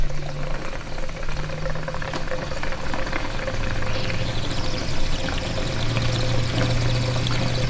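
Methanol fuel pours into a large race car tank in a continuous close splashing gurgle, steady and loud throughout, with a faint low hum underneath.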